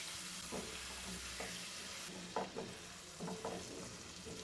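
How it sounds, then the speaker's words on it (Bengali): Chopped onions fry in a pan for a crab curry, a soft steady sizzle broken by several stirring scrapes and clatters, fairly quiet and close, with no talking. "দিয়ে দিলাম কেটে রাখা পেঁয়াজ পেঁয়াজটাকে দিয়েও ভেজে নেব প্রায় দু থেকে তিন মিনিট"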